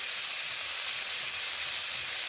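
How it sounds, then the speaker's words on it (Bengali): Potatoes, papaya and carrots fry together in a pan with a steady, dense sizzling hiss that stays loud and unchanging throughout. "এবার এখানে আমি একসঙ্গে আলু পেঁপে ও গাজরগুলোকে ভেজে নিচ্ছি"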